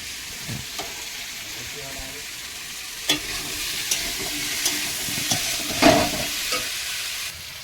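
Water and a pinch of turmeric go into a pan of frying fish curry, a steady sizzle with scattered pops, a few sharp clinks and stirring scrapes, heard close with no talking.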